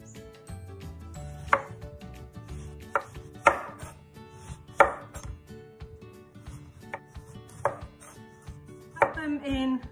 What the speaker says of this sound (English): So chop the ends off them as well.